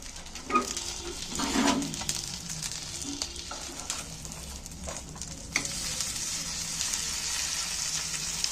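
Egg and onion fritters fry in a hot pan with a steady close sizzle, a few spatula taps and scrapes early on as they are turned, then an even crackling hiss.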